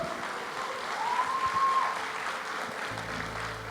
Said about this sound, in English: this team requires a huge round of applause from all of you